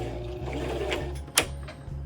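Domestic sewing machine driven by a foot pedal, stitching yarn for a Halloween wig: a steady close mechanical hum and whir that runs continuously, with a brief clack partway through as it pauses and reverses.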